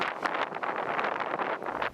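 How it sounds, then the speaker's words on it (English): Strong gusting wind during a blizzard in the high Sierra Nevada, a loud continuous roar with surging gusts that buffet the microphone throughout. "High winds with extreme gusts with more snow on the way."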